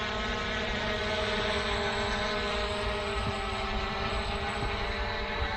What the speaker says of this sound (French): Le drone devrait faire son mode spirale.